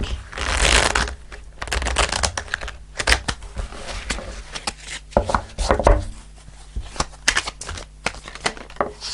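A deck of tarot cards is shuffled close up in bursts of riffling and flicking, with irregular clattering pauses between handfuls and no speech.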